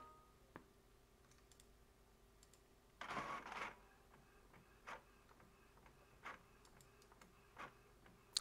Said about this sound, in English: Is it printing something out?